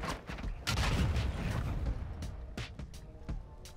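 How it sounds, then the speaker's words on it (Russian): Gunfire in the video game Call of Duty DMZ: repeated shots and bursts crack out loud and close, with a heavy rumbling volley early on and sharp separate reports trailing after. "Это в меня стреляют."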